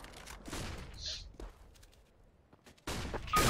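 Gunfire in Counter-Strike: Global Offensive, a few sharp shots and thuds separated by quieter gaps, with a louder burst near the end and no speech.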